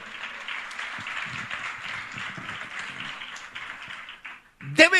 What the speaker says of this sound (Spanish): Y denle un aplauso al Señor en esta hora